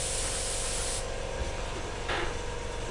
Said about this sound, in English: we get the compressor on now, and we just turn the knob up to max.